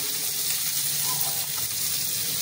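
Food frying in a pan during home Indian cooking, a steady broadband hiss of sizzling oil held evenly throughout, close and moderately loud, with no talking over it.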